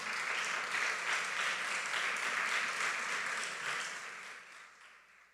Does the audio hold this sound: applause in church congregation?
yes